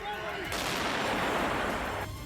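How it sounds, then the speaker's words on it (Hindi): A street protest in Athens with loud, dense bursts of blasts and crackling that fill the middle of the clip for about a second and a half, heard close and chaotic over a noisy crowd background. "एथेंस की सड़कों पर धमाके की ऐसी आवाज सुनी गई जैसे ये कोई युद्ध का मैदान हो"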